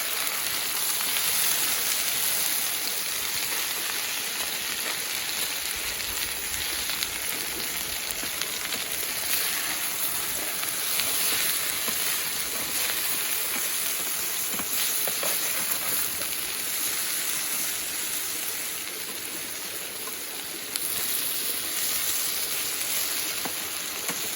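Potatoes frying in a pan over a campfire fire fed with alder wood, giving a dense, continuous close sizzle that holds steady and loud throughout, with faint crackles and no speech.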